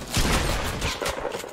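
A shotgun fires in the video game Fortnite, a burst of sharp, loud blasts crowding together over roughly a second and a half, close and dense, with no speech over it.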